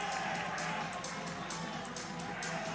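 A stadium crowd cheers a goal at Bishan Stadium during an Indonesia versus Cambodia AFF Championship match, a broad, steady roar with bright surges under a commentator's voice.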